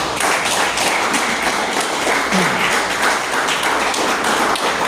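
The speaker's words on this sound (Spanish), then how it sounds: "Denle un aplauso a él, gloria a Dios." Church congregation applauding, a dense continuous patter of many hands clapping at once, steady and fairly loud throughout with no voices standing out.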